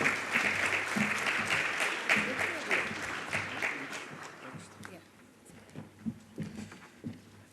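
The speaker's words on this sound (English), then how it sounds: "A round of applause, ladies and gentlemen." Audience at a public-private forum in Namibia gives a round of applause, dense clapping filling the hall before fading into a few scattered claps, with a voice speaking briefly over it.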